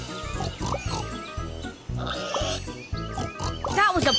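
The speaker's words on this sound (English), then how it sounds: "Some pigs have wandered off from the farm." Cartoon pigs grunt and oink in quick repeated bursts in a train video game, layered over bright game music and effects, with a voice speaking alongside.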